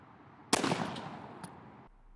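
One 28 gauge shotgun blast fired outdoors with Rogue ammunition, a sharp loud report followed by a short fading echo, the shot alone with no talk.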